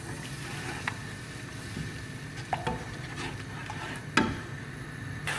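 Katla fish stir-fried with spice paste in a pan, soft sizzling under scraping stirs and a few clear clinks of a utensil against the pot, close and moderately quiet.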